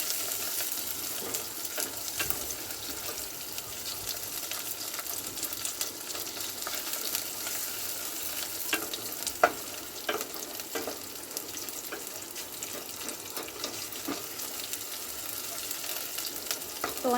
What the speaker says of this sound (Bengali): চর্বিগুলো আমার তেলের মধ্যে ভাজা ভাজা হয়ে গেছে।